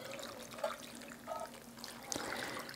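Brine poured over sliced garden cucumbers in a bowl, a soft close trickle and splashing of liquid with a few brighter drips, quiet and steady.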